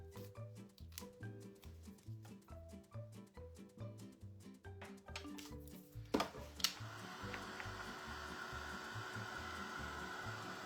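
A heat tool blows on a stencilled champagne glass, a faint, steady airy whoosh that starts partway through after a stretch of rhythmic background music.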